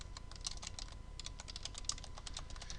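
Rapid typing on a computer keyboard, a steady run of close, crisp key clicks with uneven rhythm and occasional heavier strokes, heard alone without any voices.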